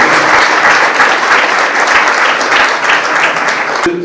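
A school audience of students and parents applauds the parents at a youth talk event, producing dense, loud, continuous clapping from start to finish.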